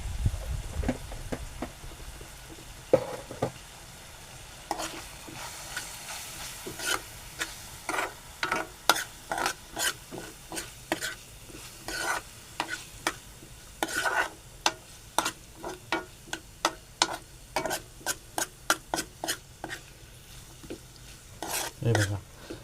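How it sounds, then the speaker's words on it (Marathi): A spoon scrapes and taps around a pan in a steady, repeated rhythm as mushroom masala is sautéed, with a soft sizzle underneath, fairly quiet and close. "परतून घेऊया आता."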